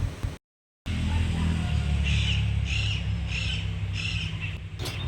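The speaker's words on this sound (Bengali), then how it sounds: "তখন থেকে টিয়া পাখিটা বসে ডাকাডাকি করছে" A wild parrot perched atop a deodar tree gives a series of four or five repeated harsh calls in the afternoon, moderately distant, over a steady low background hum, after a brief dropout at the start.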